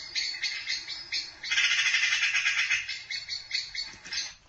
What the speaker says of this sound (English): you might have heard the little cheep, cheep, cheep in the middle is the blackbird. That's a blackbird's alarm call.